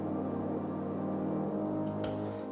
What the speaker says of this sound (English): It was meant to be a Reese Bass, but it turned out as a pad sound.